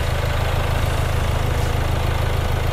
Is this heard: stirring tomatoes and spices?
no